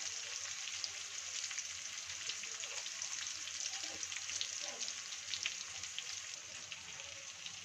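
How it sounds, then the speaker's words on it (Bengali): Onion and garlic greens sizzle and fry in a pan while being stirred, giving a steady, fairly faint crackling hiss with small pops throughout. "শাকগুলো দিয়ে আমি ভালো করে একটু নাড়িয়ে চাড়িয়ে নিচ্ছি। ফ্লেমটাকে মিডিয়াম টু হাইতে করে দিয়েছি।"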